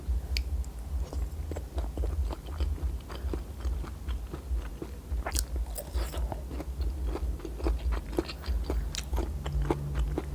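Close-up crunchy bites and chewing of wild pak wan fruit eaten with fermented fish dip, a quiet string of irregular crisp snaps over soft mouth sounds, with no talk.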